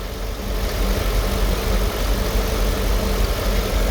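A car engine idles steadily after a 722.6 automatic transmission rebuild, giving a constant low rumble with a slight vibrating texture, close and even throughout with no talking.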